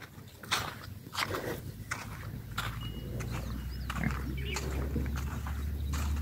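Pigs in an African village grunt in short bursts close by. Scuffling footsteps and a low steady hum run underneath, and no one speaks.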